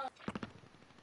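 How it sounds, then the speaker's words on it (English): Video game gunfire in a squad shooter match: a quick burst of three or four close, sharp shots followed by a fading rattle of lighter, more distant fire, with no speech over it. "Hey, you got gunshots right here."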